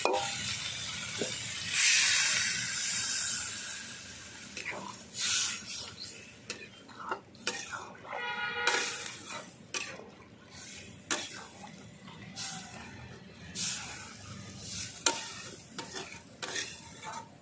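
Water goes into a pan of sautéed hilsa fish and drumstick curry, setting off loud, close sizzling and bursts of steamy hiss along with scraping stirs that rise and fall, with no talking.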